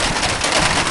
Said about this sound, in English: we actually have a little bit of rain here